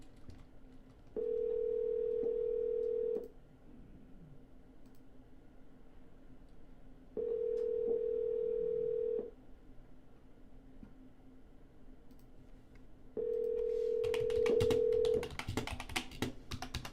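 A telephone line gives three separate two-second bursts of a steady dial tone while a call is redialed, with quiet gaps between them and faint clicks and rustling at the end.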